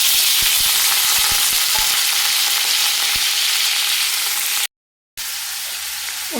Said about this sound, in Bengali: পনিরগুলো হালকা একটু লাল হয়ে যাবে, তারপরে ভেজে তুলে নেব